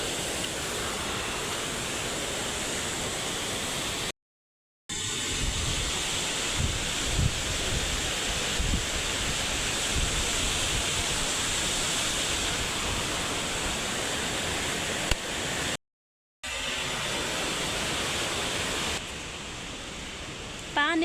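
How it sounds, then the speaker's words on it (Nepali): A monsoon-swollen waterfall on the Everest region trek between Phakding and Monjo roars as a dense, steady rush of water, close and loud, with two brief dropouts and wind buffeting the microphone. "झरना देख्न सक्नुहुन्छ। कति राम्रो छ है,"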